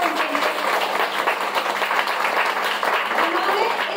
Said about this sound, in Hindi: मैं चाहूंगी एक बार जोरदार तालियां उनके लिए।